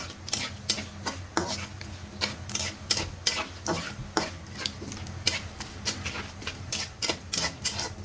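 A spatula stirs bay leaves and dried chilli powder through hot oil in a pan for chicken bhuna, giving a steady run of close, sharp scraping clacks against the metal.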